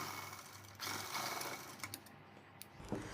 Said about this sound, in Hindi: हम इसी निशान पे सिलाई लगा देंगे।